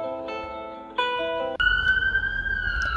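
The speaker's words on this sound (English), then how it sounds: "emergency siren" A wailing emergency siren sounds loudly, its steady tone gliding upward over a rumble of background noise.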